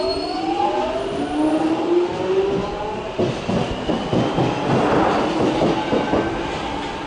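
A London Underground Stanmore service train runs through West Hampstead with a steady loud rumble and whine, then rhythmic clickety-clack of wheels over rail joints as carriages pass close.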